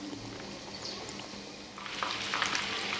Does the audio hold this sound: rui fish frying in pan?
yes